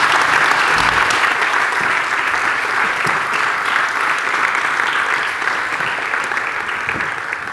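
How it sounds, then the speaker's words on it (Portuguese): Audience applause at a Portuguese national youth plan presentation session, dense sustained clapping from a large crowd that holds steady then slowly fades. "Uma salva de palmas para os dois."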